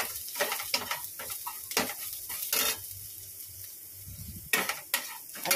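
A utensil scrapes and stirs a pan of pointed gourd and potato curry with onion, frying with a steady sizzle and sharp metallic knocks against the pan, close and without talk.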